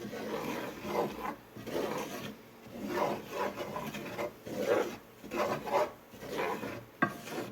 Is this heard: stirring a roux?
yes